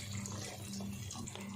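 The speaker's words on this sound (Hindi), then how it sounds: "चावल का पानी डाल देते हैं" Water poured steadily into a cooking pot of aloo pulao rice with potatoes and peas, a continuous close splashing rush lasting the whole moment with no talk.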